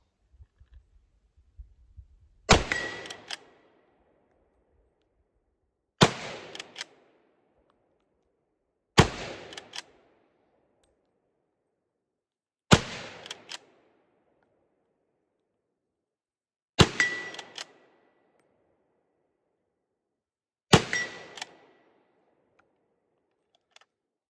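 Six sharp, loud rifle shots from a K31 Swiss Karabiner 1931 firing GP11 7.5 Swiss rounds, spaced several seconds apart with a short echoing decay after each and quiet between.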